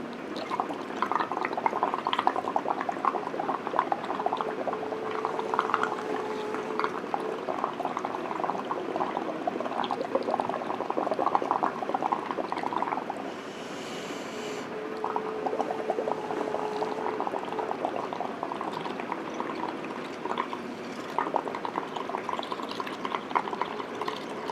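Dense bubbles fizz and crackle steadily across UV resin on a tumbler, a close, continuous sizzling texture with no voices.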